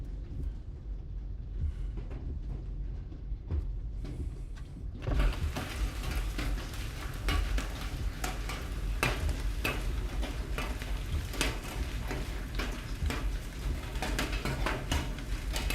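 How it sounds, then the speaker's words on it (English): Golf-ball-size hail drums on a car during a storm in central Kansas. It starts as scattered sharp ticks and builds into a dense, continuous clatter of impacts close by. "Yep, that's golf ball size hail right ahead."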